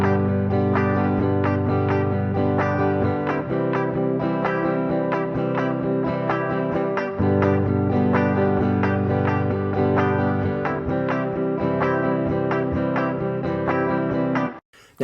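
Two interlocking electric rhythm guitars with distortion and effects: one strums big, full chords while the other fills the gaps with smaller, choppy chords, in a steady, loud groove throughout.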